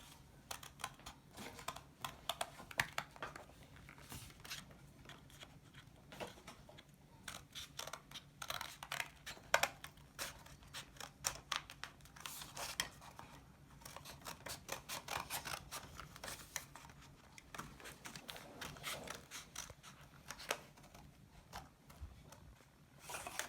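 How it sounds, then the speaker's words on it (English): Scissors snip through paper along pencil lines while making a paper lantern, a steady run of many close, crisp cuts with short pauses, no talking. "you can use your scissor and just cut on your pencil lines"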